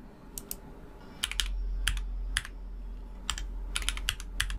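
Typing a PIN on a computer keyboard during a Windows 11 setup: sharp, close key clicks arrive in small clusters and single taps over a low steady hum, with no talking.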